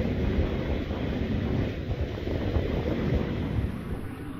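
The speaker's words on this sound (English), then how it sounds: "It's windy today" Strong gale wind, around 15 to 20 miles an hour, roars steadily across the microphone on Pismo Beach, a constant close buffeting rumble with no voices.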